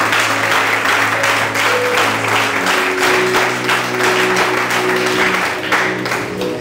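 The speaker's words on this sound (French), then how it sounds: "je vous demande à applaudir au pasteur Kiki qui a initié cette conférence" A conference audience applauds a pastor at a business and land-affairs gathering in Benin, dense continuous clapping over a low hum of background tones, loud and sustained for several seconds.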